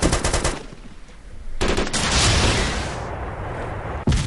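Dense automatic gunfire in a military video game match, loud rapid bursts separated by a short pause, then a sustained roar of fire and one more sharp report.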